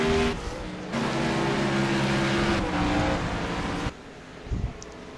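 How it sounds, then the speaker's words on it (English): Race cars drive through the esses at Sonoma Raceway, several engines roaring loudly and continuously as they pass, then the noise drops away to a quieter background near the end. "You see all the cars snaking their way down through the S's."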